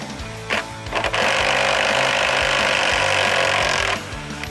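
A cordless LMlava LM240 impact wrench hammers at a motorcycle wheel nut, giving a loud, continuous rattling buzz for about three seconds after a couple of short trigger bursts.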